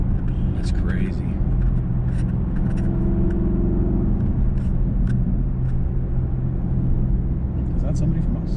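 A 2019 Porsche Panamera Turbo, said to make close to 600 horsepower, gives off a deep, steady engine and road rumble from inside the cabin while people talk over it.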